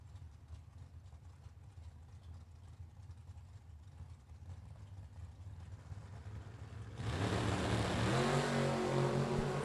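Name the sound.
drag racing truck engine revving at the start line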